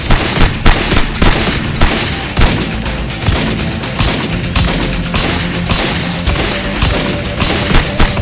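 Rapid bursts of machine gun fire from a video game, loud and continuous with repeated sharp volleys and crashing impacts throughout, no talking.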